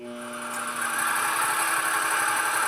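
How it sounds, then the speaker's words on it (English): A waterjet cutter's high-pressure pump starts up and builds pressure, a steady mechanical drone with a faint whine rising slightly in level as it runs, close and continuous with no talk. "So we start our pump up, builds the pressure."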